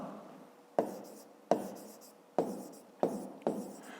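A pen writes out the answer to a fifth-grade math exercise, giving five distinct scratchy strokes at irregular intervals, close and clear with no talking.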